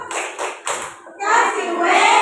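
A group of people, apparently children, claps out the rhythmic 'tepuk wow' chant in a few sharp bursts of hand claps, followed by a brighter sustained stretch of clapping and cheering.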